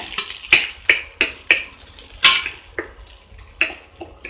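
Onion and capsicum being stirred in butter in a kadai for paneer, with repeated clinks and scrapes of a spatula against the pan over a faint sizzle, close and uneven.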